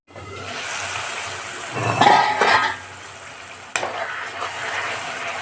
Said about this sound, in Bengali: এটা ঢাকা দিয়ে দিলাম, এবার এটা কষবে।